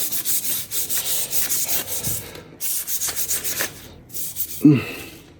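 A bolo blade being sanded by hand during a restoration, with rhythmic back-and-forth abrasive rubbing strokes, close and fairly loud, with a brief pause midway and a knock near the end.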